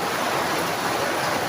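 Heavy rain pours down with running water, a dense, loud, unbroken rush with no voices.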